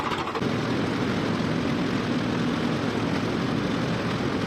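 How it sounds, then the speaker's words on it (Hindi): A tractor driving into a millet field at harvest, its engine a steady, loud, low drone with broad rumbling noise and no pauses or talk. "ये देखिए दोस्तों, बाजरी के अंदर लगाया जा रहा है ट्रैक्टर को"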